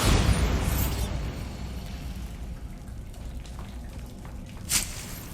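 A Bombarda blasting spell detonates in Hogwarts Legacy, a dense rumbling burst that decays into a sustained crackle, with a sharp second pop near the end.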